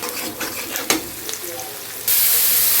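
Onion and crushed garlic fry in a pan with a steady sizzle and hiss, broken by a few stirring scrapes near the start and ending in a louder, brighter burst of sizzling.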